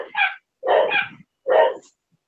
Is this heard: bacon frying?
no